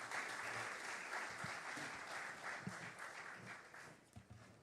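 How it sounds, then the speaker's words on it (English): Sustained applause from a conference audience at the Jamaica Diaspora Conference welcoming the keynote speaker, a dense steady wash of many hands clapping that fades slightly toward the end, with faint voices underneath. "Ladies and gentlemen, I ask that we put our hands together."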